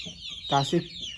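Backyard chickens clucking close by, a couple of short throaty clucks in quick succession over a faint airy background hiss.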